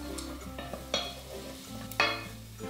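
A steady sizzle of vegetables frying in a pan for soup, with a few scraping stirs and clinks of a utensil against the pan.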